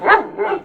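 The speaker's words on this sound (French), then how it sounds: "c'est le chien qui fait n'importe quoi." A dog barks once at close range, a loud, short, slightly whiny bark that splits into two quick pulses.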